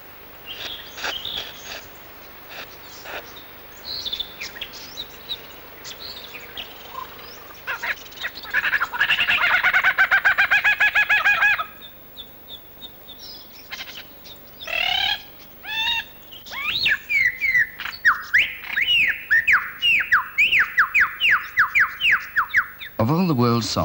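Male lyrebird singing, with his own song interwoven with mimicked calls of other birds: varied whistles, chattering trills and a long buzzing rattle, fairly close and clear over quiet forest background.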